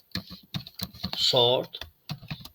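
Typing on a computer keyboard while writing code: quick, close key clicks in uneven bursts, with a short voiced hum in the middle.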